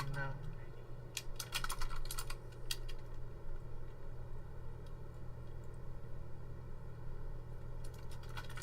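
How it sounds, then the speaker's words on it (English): Computer keyboard typing and mouse clicking come in quick, loud bursts of clattering keystrokes, then a pause and a short flurry near the end, over a steady low hum. "my typing and clicking is so loud."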